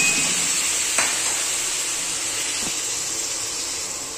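Khaarvda mixture fries in hot oil, giving a steady loud sizzle with a couple of soft scraping stirs partway through, the hiss easing slightly toward the end.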